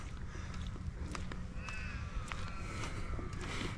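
Crows caw faintly in the distance near a mountaintop during an outdoor walk, with a few thin calls over a constant background of wind and footstep noise.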